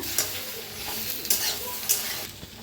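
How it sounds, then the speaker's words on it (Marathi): Sliced okra dry-roasts in a pan, a soft continuous sizzle broken by a few distinct scraping stirs of a spatula at irregular intervals, close and moderately loud with no voices. "तर भेंडी आपली छान भाजलेली आहे,"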